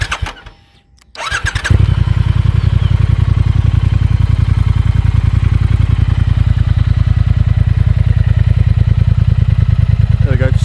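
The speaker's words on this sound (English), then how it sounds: "There we go, so good tone coming out on the exhausts there." A 2019 Triumph Speed Twin motorcycle engine fires up after a short quiet gap and settles into a loud, steady, close idle with a rapid regular thump from the dual exhausts.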